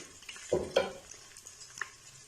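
Sliced onion frying in oil until lightly golden for a white kidney bean curry, a faint, low sizzle broken by two quick stirring scrapes early on and a small clink later, heard up close without any talking.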